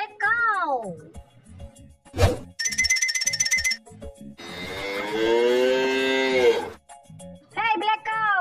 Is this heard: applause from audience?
no